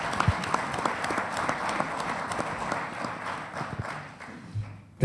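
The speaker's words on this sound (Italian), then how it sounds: "Questa sera lo accogliamo con un applauso." An audience at an evening memorial event for don Antonio De Nardi applauds to welcome a speaker, a sustained patter of clapping that thins out near the end before a sharp knock.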